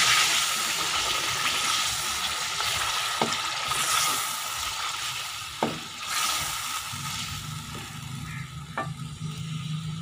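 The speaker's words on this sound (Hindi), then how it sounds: "आलूओं को हल्का सा फ्राई करने के बाद इसमें दही डाल दें" Potatoes fry in hot oil with a loud, continuous sizzle and occasional stirring clatter, and the hiss shifts as yogurt is added to the pan partway through, close up with no talking.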